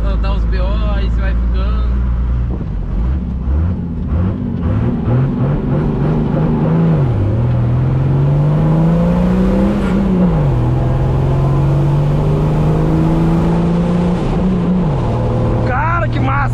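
A pickup truck's diesel engine, a six-cylinder MWM, accelerates loudly and steadily, its pitch rising through the gears with a drop at each shift, continuous and close.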